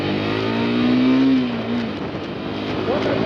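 A Triumph Speed T4 motorcycle pulls away in first gear, its engine rising in a short, close rev and then settling into a steady rumble as it moves off, with a voice over it.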